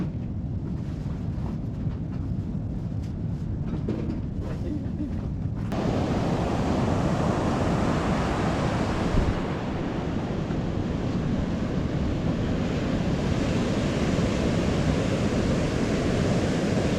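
Atlantic Ocean surf breaks along the Skeleton Coast as a loud, continuous roar of waves, with heavy wind buffeting the microphone and no clear gaps between breakers.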